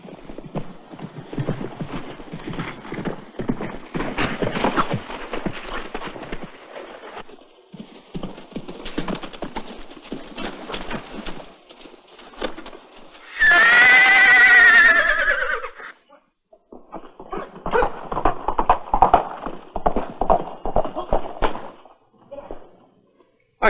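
A cavalry horse at an army post gallops with busy hoof clatter, then gives a loud, close neigh in the middle before the galloping resumes.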